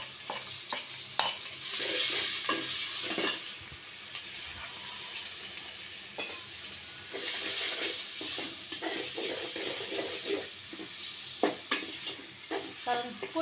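Fish, onion, green chili, ginger-garlic paste, turmeric and chili powder frying together in a pan, a steady loud sizzle with repeated stirring scrapes and clatter, close by and alone.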